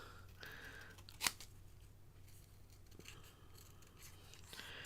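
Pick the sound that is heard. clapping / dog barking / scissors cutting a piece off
scissors cutting a piece off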